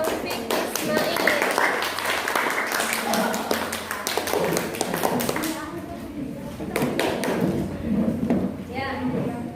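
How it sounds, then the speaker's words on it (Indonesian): A classroom audience claps after a student group's presentation, a dense run of hand taps mixed with voices talking throughout. "silakan tepuk tangan untuk kelompok Taufik Ismail."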